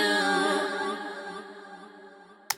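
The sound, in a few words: Pan Man auto-pan on a vocal delay in Pro Tools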